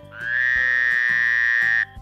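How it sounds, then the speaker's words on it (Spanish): A single long, buzzy croak held for nearly two seconds, loud and close, with a low steady drone underneath. "La rana en español dice croak, croak."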